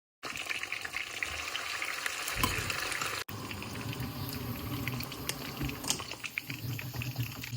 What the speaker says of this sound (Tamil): இது இப்போ நல்லா பொறிஞ்சிட்டுது